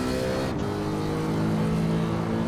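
BMW E92 M3 at Laguna Seca in the Assetto Corsa racing game, a loud sustained engine note under load with a steady high whine and rumble, continuous with no talking.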